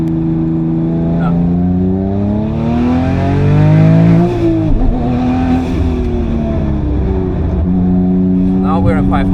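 A 1000hp 9ff Porsche Turbo engine at full throttle on the Nürburgring, a loud continuous roar rising in pitch through the gears, with a brief dip at a shift, while people talk inside the car.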